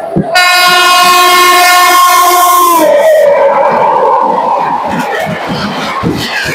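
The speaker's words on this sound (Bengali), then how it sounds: "এই 2 নম্বর থেকে আমাদের ট্রেন ছাড়বে" Local train at Dankuni station platform blasts a loud, sustained horn for a few seconds, then the horn stops and a rumbling, clattering rail noise continues close by.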